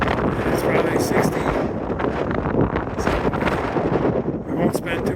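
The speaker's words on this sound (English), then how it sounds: "as you can tell, it's windy." Strong gusting wind roars and buffets the microphone on an exposed mountain summit at Mt Meader, loud and continuous with surging blasts throughout.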